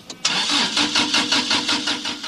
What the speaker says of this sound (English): But the engine just won't catch.